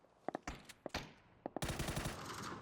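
Gunfire in the video game PUBG: a few sharp, faint shots early on, then a rapid automatic burst near the end, fairly distant and quiet overall.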